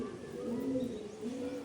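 A pair of pigeons sits together, one male and one female, and a soft, steady low cooing carries on without a break, close by and fairly quiet.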